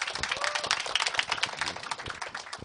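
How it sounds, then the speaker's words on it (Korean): An audience bursts into warm applause to welcome a speaker at a business presentation, a dense, steady wash of many hands clapping close and loud. "뜨거운 박수로 맞이해 주시기 바랍니다."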